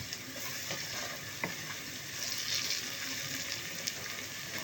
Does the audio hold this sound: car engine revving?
no